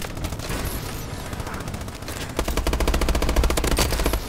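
Automatic weapon fire in Call of Duty: Advanced Warfare multiplayer, scattered shots giving way to a loud, fast machine-gun burst, up close and without speech.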